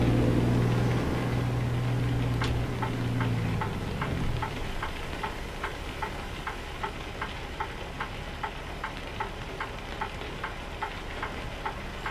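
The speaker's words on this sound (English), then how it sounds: "Just been a steady all-day rain." Steady all-day rain in American Truck Simulator, a broad even hiss that persists through the clip, with a low engine rumble fading out early and a faint regular ticking, like a turn signal, repeating underneath.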